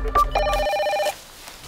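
A telephone rings once with a bright electronic bell tone, a short close burst that stops abruptly and leaves quiet room tone behind.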